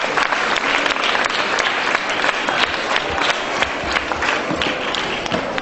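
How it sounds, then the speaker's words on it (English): An audience at a school appreciation day in a hill station applauds the students of New Era school, with loud, dense clapping that fills the whole stretch and a few sharper thuds poking through the steady roar. "Can we clap for them?"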